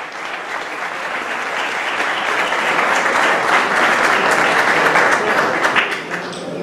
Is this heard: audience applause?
yes